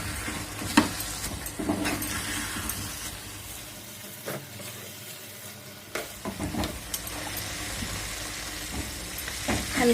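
Fish curry cooks in a pan with a soft sizzle while a spoon stirs it, giving irregular scrapes and clinks. The sound is fairly quiet and has a brief lull near the middle.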